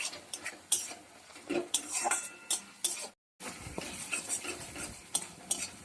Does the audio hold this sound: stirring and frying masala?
yes